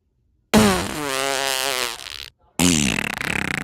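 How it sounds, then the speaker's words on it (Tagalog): Two loud, close farts, the first long and buzzy with a wavering pitch that fades out, then a short pause before a second rougher, sputtering burst. "Ay, oh babe, utot ra to babe."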